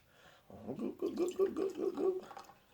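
Stout beer poured down the center of a glass, a soft, short run of gurgling glugs and fizzing liquid lasting a couple of seconds, faint and close.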